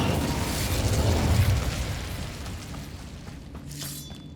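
An Incendio fire spell cast in Hogwarts Legacy bursts out as a loud, rumbling whoosh of flame that swells and then fades, followed by fainter crackles and a short bright shimmer near the end.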